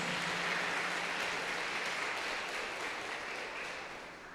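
Congregation applauding in a church service, a steady wash of many hands clapping that fades slightly toward the end, moderately distant and alone.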